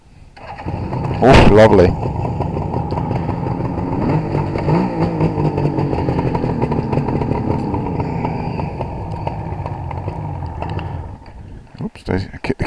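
A Suzuki GT750A motorcycle engine kicks into life with the choke on, then revs and settles into a rough, uneven idle up close. A voice briefly comments over it before the engine cuts out near the end.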